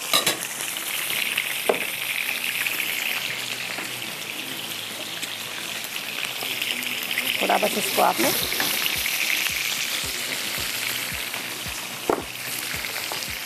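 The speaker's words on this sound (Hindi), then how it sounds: "ठीक है, इसको फ्राई करके हमें निकालना है, इसी बॉल में निकाल लेंगे।" Fish frying in a pan for fish curry, a dense, steady close sizzle with occasional clinks and stirring knocks, while someone talks briefly over it.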